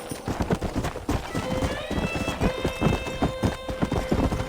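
A horse in Red Dead Redemption clip-clops at a steady trot, with close, rhythmic hoofbeats and a brief whinny partway through. Voices are faintly present.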